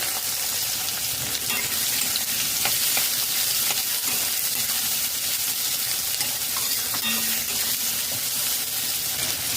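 Two medium onions, finely chopped, sizzle steadily in a hot kadai after green chillies and bay leaves, a dense continuous frying hiss with occasional stirring scrapes and no talking.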